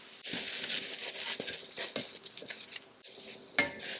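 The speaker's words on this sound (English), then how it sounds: "we are going to add our rice" Rice pours into a sauté pan where aromatics are browning for a ginger and garlic pilaf, with a hissing patter of grains, clinks of utensil on metal, and a soft sizzle beneath, all close and without talking.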